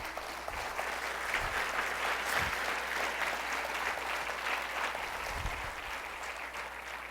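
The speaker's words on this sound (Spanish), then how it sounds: "Dale palmas al Señor." A church congregation claps steadily and continuously, a dense wash of applause from many hands filling the space.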